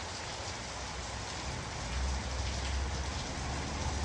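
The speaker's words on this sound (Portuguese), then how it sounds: "E eita, que chuvinha boa, gente." Steady rain pours down as a dense, even hiss with a low rumbling undertone that swells slightly midway, close and continuous with no voices.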